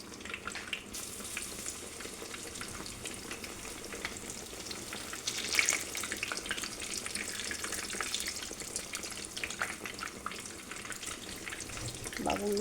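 Steady, crackling sizzle of food frying in cooking oil on a home stove, close and continuous, with faint clatter and brief voices in the background.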